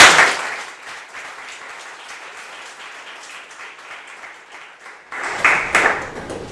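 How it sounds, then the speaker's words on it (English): An audience claps at a tech cohort demo day, with steady applause that dips slightly mid-way and then swells louder again near the end. "So I want to give a big clap to all of them."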